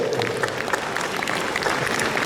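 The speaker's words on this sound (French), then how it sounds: "grand tonnerre d'applaudissements pour Jérôme Cadoret." Dense, steady audience applause fills the room at a classic car awards ceremony, with many hands clapping at once and a faint murmur of voices underneath.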